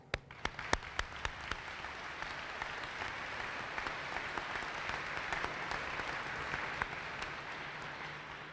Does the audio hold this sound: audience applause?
yes